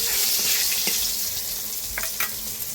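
Panch phoron spices sizzle and crackle steadily in hot oil as a village breakfast is cooked, with a continuous hiss and a few sharper pops near the pan.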